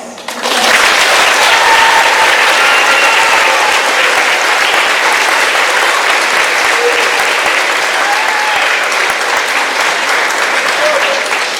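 An audience at a middle school ceremony breaks into sustained applause, a dense, even wash of clapping from many hands that starts suddenly and holds steady for several seconds.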